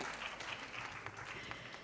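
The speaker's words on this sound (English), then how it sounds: "So can I have an applause for that?" An audience at a design debate in Kochi breaks into applause, a faint, even patter of many hands clapping together for the whole short stretch.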